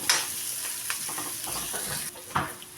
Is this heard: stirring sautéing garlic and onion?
yes